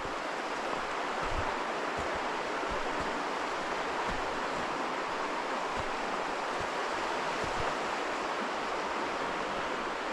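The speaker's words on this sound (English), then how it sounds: "where there's water running down." Running water near Morralee Tarn, with a muddy path beside it, gives a steady, dense rush that stays even and close throughout and has no pauses.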